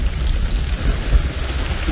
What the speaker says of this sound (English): So the rain is picking up a little.